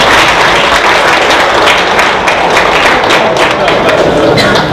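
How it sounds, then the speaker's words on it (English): An audience at an aviation career event claps steadily and loudly throughout, a dense wash of hands with a few louder taps, no pause. "So keep the claps going."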